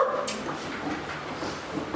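A Cane Corso, an Italian Mastiff, barks and whimpers close by in short deep and yelping bursts over steady background noise.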